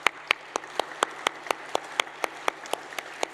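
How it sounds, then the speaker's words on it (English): A small group at a global ministerial road safety conference claps in slow, distinct beats, each clap crisp and separate, at moderate loudness in a quiet hall. "So I'd like to take a moment to applaud Benasser and all his efforts"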